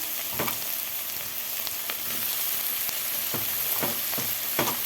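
Shrimp frying with cauliflower in a pan, a loud continuous sizzle close by, with intermittent stirring scrapes and pops.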